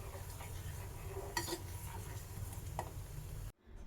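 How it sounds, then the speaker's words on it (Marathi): Dry fruits cooking in a pot for an almond milkshake are stirred, giving soft scraping and a couple of clinks over a low background hum, with a sudden cutoff near the end. "त्यामुळे सतत ढवळून हे आपले ड्रायफ्रूट्स पूर्ण शिजवून घ्यायचं आहे."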